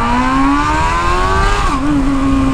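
A Honda Hornet motorcycle engine revs hard and loud, its pitch climbing steadily before briefly dipping and steadying again, heard close and alone.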